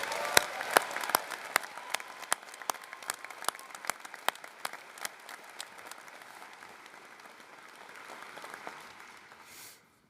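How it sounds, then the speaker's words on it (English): Applause for a graduating veterinary medicine class at a commencement ceremony, a sparse crowd clapping with distinct individual claps, holding steady, then fading out near the end. "One more round of applause for the class of 2026."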